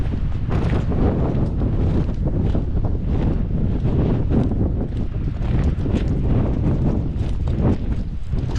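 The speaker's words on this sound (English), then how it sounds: "It's a nice cool breeze." A cool breeze blows through a forest and buffets the microphone, a loud, continuous low rumbling roar with no pauses and no talk.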